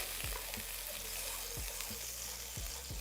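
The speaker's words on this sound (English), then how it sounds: "So let's melt the butter." Unsalted butter melts in a pan with a steady, close sizzling hiss. A few soft pops and taps come through now and then.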